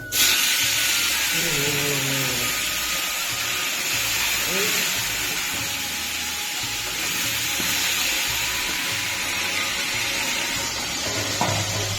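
Fish fry in a pan with a steady, loud sizzle and hiss throughout, close up, while voices chat intermittently over the frying.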